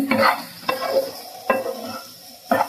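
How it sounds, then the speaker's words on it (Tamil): Potato roast frying in ghee is stirred in a pan, with four distinct scraping strokes over a steady close sizzle. "எல்லாம் சேர்த்து நல்லா மிக்ஸ் பண்ணிக்கோங்க"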